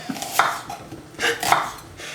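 A knife chops carrots finely on a cutting board for a bolognese sauce, with several quick irregular taps and a couple of closer, louder strikes, close up and without talk.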